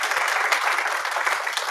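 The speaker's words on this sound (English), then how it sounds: "So can we give our panelists a round of applause?" An audience claps for the panelists at the close of a Black music summit panel, giving a steady, even round of applause that carries on without talk.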